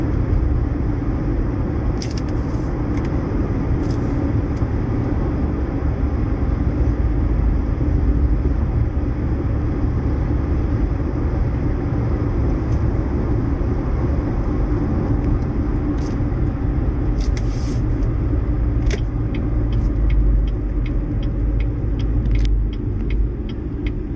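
Inside a 2015 Chevrolet Impala on a road drive with a worn wheel bearing, a continuous loud low rumble and road drone persists throughout, with a few faint clicks and rattles.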